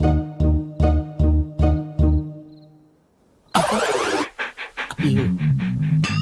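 A dog panting in a comedy film scene, six quick, even, loud breaths in a steady rhythm, followed by a brief silence and then a sudden burst of louder, mixed noise.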